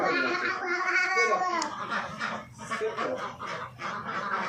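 Ducks gathered at feed make a busy chorus of quacking and babbling calls, fairly close and continuous throughout, with overlapping bursts and no clear speech.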